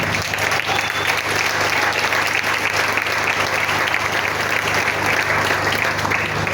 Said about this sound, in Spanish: Sí, aplaude y alabe.